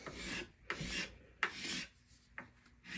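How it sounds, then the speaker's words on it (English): A hand rasp files wood in four strong, rough strokes at a steady rhythm, each a loud, close scrape. No one talks. "This rasp will eat the wood away."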